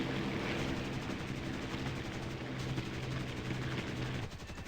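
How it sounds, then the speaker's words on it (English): Rapid, continuous automatic fire from the PV-1 machine guns of an I-15 Bis biplane fighter in War Thunder, a dense rattling burst running nearly throughout over steady engine drone, easing off near the end. "I'm not the best with the PV-1 machine guns"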